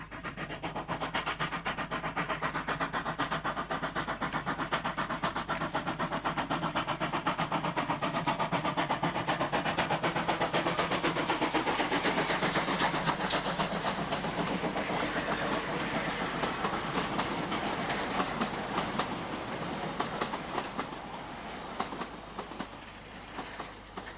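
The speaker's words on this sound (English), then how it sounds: "The same train had reached the lower end of the branch by the following day and is seen here on the climb to" A passenger train headed by class 19D steam locomotive number 2698 climbs a branch line towards Birds River, giving a loud, sustained rumble with a steady clickety-clack of wheels that holds throughout, then eases slightly near the end.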